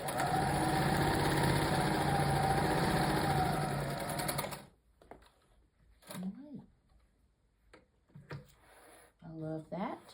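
Sewing machine stitching fabric squares with a quarter-inch seam, a steady loud whirring run for about four and a half seconds, then silence broken by talking.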